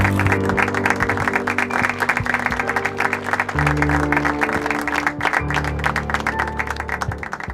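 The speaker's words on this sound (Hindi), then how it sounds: "तालियों से स्वागत कीजिए" Applause greets a new police constable at a ceremony in a Hindi film, a dense steady clapping crowd sustained throughout under a musical backing.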